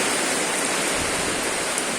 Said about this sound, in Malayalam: നല്ല കാറ്റ്, പെട്ടെന്ന് വന്ന മഴയാണ്.